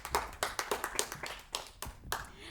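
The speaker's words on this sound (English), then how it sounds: "Round of applause, please." An audience at a school quiz between junior schools claps in a brief, scattered burst. The distinct hand claps come irregularly, then thin out to a few last claps.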